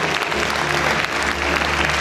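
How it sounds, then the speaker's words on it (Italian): An audience at a song festival in Lercara Friddi claps in sustained, dense applause, loud and continuous throughout with no voices standing out. "Perché non fate un applauso tutte quante?"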